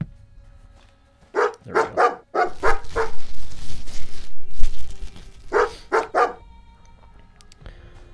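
A dog barks in the Dogchild video game, loud and close, in quick bursts of two or three sharp barks with a rumbling pause in between, then a final pair of barks.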